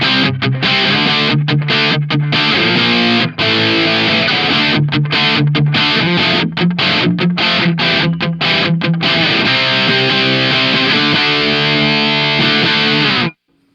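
Heavily distorted electric guitar through a solid-state amp and Two Notes Captor X chugs out a choppy rhythm with abrupt stops between chords, loud and steady until it cuts off.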